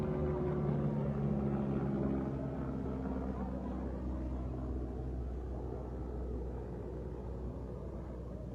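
A helicopter flies over a cup tournament game, its deep steady rumble filling the air continuously and fading slightly as it passes.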